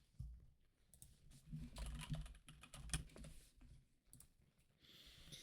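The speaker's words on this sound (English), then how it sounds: "What does Google say when I type in jealousy?" Typing on a computer keyboard, a quick irregular run of close, soft key clicks that thins out briefly and picks up again near the end.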